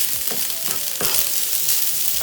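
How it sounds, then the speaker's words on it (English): Garlic butter rice sizzling and frying in a hot pan, a constant bright crackle with a few soft scrapes from stirring, close and steady with no voices. "So this is our garlic butter rice getting ready."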